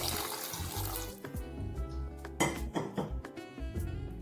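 Water is poured into a cooking pot for a Telugu chintakaya curry, a splashing trickle at first, followed by clinks and knocks of utensils and pot against the stovetop, close and quiet.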